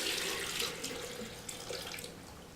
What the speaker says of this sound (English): Next we go with our water, distilled or filter